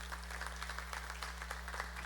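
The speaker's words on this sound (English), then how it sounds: "Let us welcome the President's congratulatory message virtually by a big round of applause" Audience applause at a university convocation ceremony, a light, fairly faint patter of clapping heard steadily over a constant low hum.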